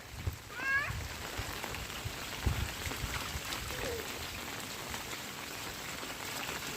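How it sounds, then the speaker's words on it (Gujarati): Steady rain patters outdoors while a child plays in it, a broad continuous hiss with scattered drop impacts and faint voices in the background. "દિવ્યા મોટો થયો છે એમ પહેલી વાર વરસાદમાં રમી રહ્યો છે સરસ મજાનો."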